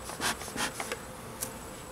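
Italian honey bees buzzing softly during a hive inspection, a faint continuous hum with a few brief louder passes of bees flying close.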